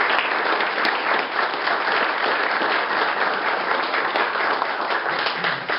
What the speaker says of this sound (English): Round of applause, stand up there.